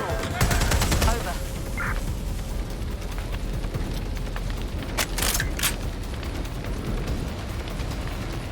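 Gunfire in the video game Watch Dogs: Legion, a few sharp bursts of shots around the middle against a steady backdrop of game noise and voices.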